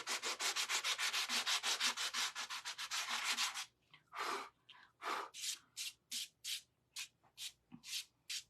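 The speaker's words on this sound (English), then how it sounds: "I've got a sanding sponge here. I could rough it up a little." A sanding sponge rubs painted wood steadily back and forth in fast, even strokes, then shifts to slower, separated scrubbing passes, close and clear.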